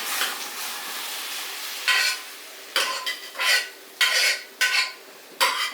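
Boiled potato and carrot mashed with a spoon in a pan: quiet background, then a series of short scraping, squishing bursts at irregular intervals, fairly close.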